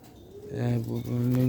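A pigeon coos close by in low, throaty, rolling notes, a short burst of soft cooing against faint background noise.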